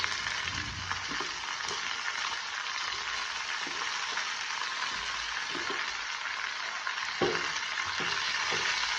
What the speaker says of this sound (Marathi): आता यात आपल्याला शेंगा सोडायच्या आहेत